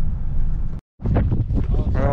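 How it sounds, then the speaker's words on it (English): Strong wind buffets the microphone on a windy mountainside by a lake, a loud steady rumble that drops out briefly, then returns with a voice speaking over it. "it's very windy up here"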